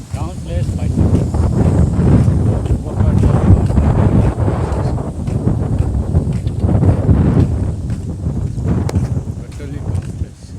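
Cold wind blows hard outdoors, buffeting the microphone with a loud, continuous low rumble that swells and eases in gusts throughout.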